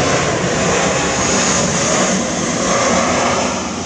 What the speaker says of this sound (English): one more airplane, hold on.